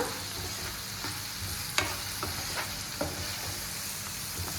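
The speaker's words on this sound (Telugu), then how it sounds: "ఆనియన్స్ వేసాను వేగుతున్నాయి చూడండి ఇవి బాగా వేగాలన్నమాట" Onions frying in a pan for a restaurant-style chicken curry give a steady, even sizzle with a few sharp clicks of stirring scattered through it, and no one speaks.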